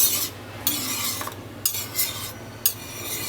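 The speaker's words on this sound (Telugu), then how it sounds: "కొంచెం మిక్స్ చేస్తున్నాం మంచిగా" Vegetables for veg biryani are stirred in a pot, giving rhythmic scraping and rasping strokes with short pauses between them, close and moderately loud, with no voices.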